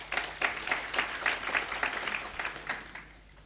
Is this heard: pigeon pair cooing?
no